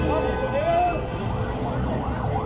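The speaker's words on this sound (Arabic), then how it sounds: "الاسعاف جات اهي." A wailing ambulance siren sweeps up and down over loud, busy traffic noise on Faisal Street, Egypt, at a motorcycle accident scene, fairly close and continuous.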